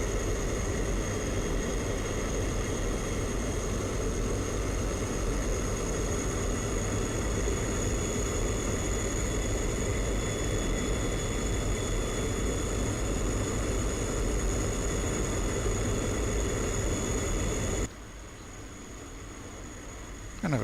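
A military plane in the DCS flight simulator game flies with a steady, loud engine drone and rushing air noise that holds unbroken for about eighteen seconds, then drops away sharply near the end.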